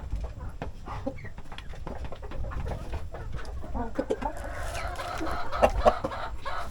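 Native chickens cluck steadily around a hen brooding her eggs, with repeated short calls and bird chatter close by over a constant low background murmur.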